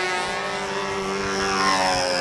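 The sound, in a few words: model aircraft flying at competition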